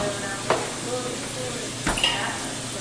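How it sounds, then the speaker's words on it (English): Steaks sear in a skillet on the highest heat, giving a steady loud sizzle with a couple of brief clinks of utensils on the pan. "So what you saw me do was I seared them in the pan."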